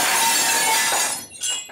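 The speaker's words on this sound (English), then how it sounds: "You broke some glass." Glass breaking indoors: a loud, bright shatter that rings and fades, followed by a brief second tinkle of falling pieces.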